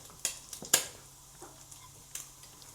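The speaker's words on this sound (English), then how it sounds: "At this point I'm also going to add a little bit of flour to the beef, just to coat it all." Beef pieces being browned for a beef bourguignon and coated with flour, a faint sizzle under a few sharp stirring clicks and scrapes of a utensil against the pot.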